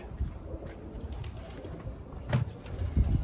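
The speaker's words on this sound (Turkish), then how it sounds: "Oo çok da güzel ötüyor ha." A male red bonjili pigeon coos from a rooftop in a few soft, low, rounded calls against faint background noise, with the last coos coming slightly louder.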